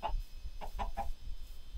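Minecraft chickens give a few quick, close clucks in a short burst, clear and moderately loud, with no talking.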